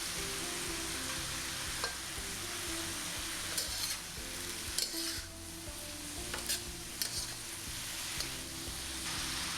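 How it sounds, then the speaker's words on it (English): Bean sprouts and tofu sizzle steadily in a hot pan while a utensil stirs and scrapes, with occasional clinks against the metal, close and continuous. "Stir fry the bean sprouts for 2 minutes."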